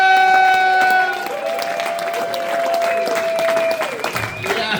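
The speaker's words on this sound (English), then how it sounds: "Clap it up for my guy" Audience applause at a stand-up comedy show welcoming comedian Ed McGowan to the stage, a steady wash of clapping and cheering beneath a host shouting through the microphone, with music tones ringing out over the first part.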